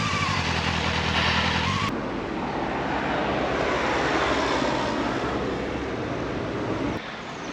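A motorcycle ridden on Corsican roads out of Ajaccio, its engine and wind roar holding as a loud, continuous rush for several seconds and dipping briefly near the end.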